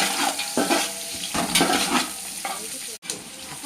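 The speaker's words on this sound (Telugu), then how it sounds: "ఆనియన్స్, పచ్చిమిర్చి వేస్తున్నామండి. ఇవి కూడా కలుపుకుంటున్నామండి." Onions and green chillies sizzling as they are stirred in a hot pan while chicken dum biryani is being cooked, steady frying hiss broken by several scraping stirs and a short clink near the end.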